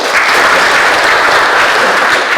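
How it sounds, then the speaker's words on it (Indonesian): An audience claps steadily and densely at the opening ceremony of an administrator leadership training, a loud, even wash of applause with no voices over it. "Sekali lagi kita aplaus untuk kita semua."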